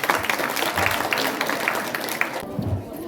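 Audience applause after a poem recitation at a school cleanliness-campaign event, a sustained patter of many hands clapping at moderate volume, with some crowd noise, tapering off near the end.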